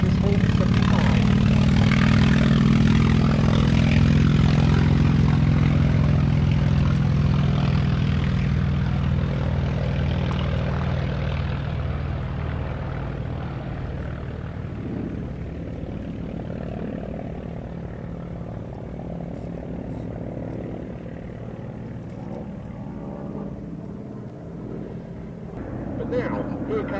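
Grumman FM2 Wildcat and Curtiss Hawk 75 propeller fighters on the runway at Duxford, a loud, steady piston-engine drone that slowly fades as the aircraft move away, with a faint rise again at the very end.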